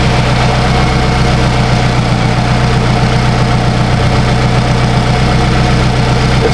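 A Toyota RAV4 engine idling while it warms up, heard up close and loud as a steady, low rumbling drone with a fast, even pulsing throb and some mechanical vibration, continuous with no voices.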